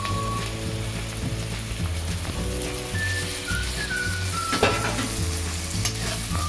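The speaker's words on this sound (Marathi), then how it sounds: "टमाटा परतून घेणार आहे." Tomato sautés in a pan for egg fried rice, a steady close sizzle with occasional stirring scrapes and a faint whistling tone over a low hum.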